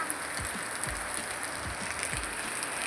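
Steady rain pours down outdoors in a Gujarati village, a dense even patter with a few soft low thumps of heavier drops, continuous and fairly loud with no voices.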